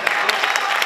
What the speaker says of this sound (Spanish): Un aplauso ahí para José Antonio